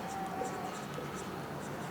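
Pen or pencil writing a trigonometry heights-and-distances problem by hand, a soft continuous scratching on paper, close and fairly quiet with faint room noise.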